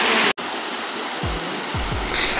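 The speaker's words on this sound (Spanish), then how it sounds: "nos encontramos esta cascada" A waterfall in the Huasteca region gives a continuous, close, loud broadband rush of falling water with a brief dropout near the start and a few low thumps beneath the roar.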